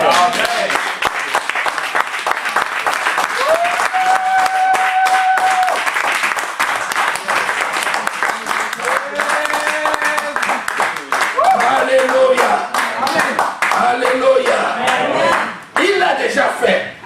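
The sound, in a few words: church congregation applauding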